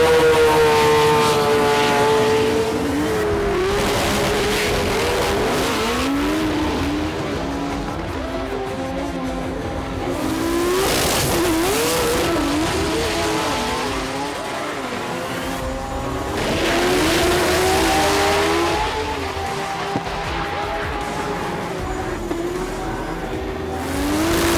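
Race cars at the Melbourne Jamboree drift event howl with rising and falling engine revs, tyres squealing as they slide, the sound sweeping loud and near in repeated waves.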